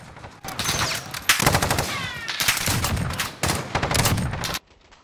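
Sniper rifle fire in Call of Duty: Modern Warfare: loud, dense bursts of shots with brief pauses between groups, running for several seconds before cutting off abruptly.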